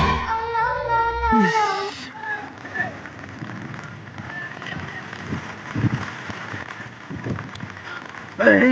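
Steady rain pours on an outdoor neighbourhood football game played in the monsoon, a constant wash of drops under faint voices and shouts; a brief cry-like burst opens the scene.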